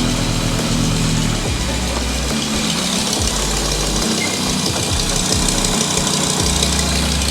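A BMW V10 engine runs loud and steady after starting, a continuous low rumble with rough, knocking pulses and uneven throttle surges throughout, with no voices over it.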